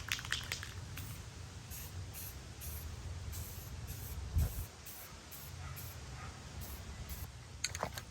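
Short bursts of spray paint hissing from an aerosol can as a black coat goes onto a BMX frame, with repeated quick hisses and brief pauses between passes, fairly close and quiet.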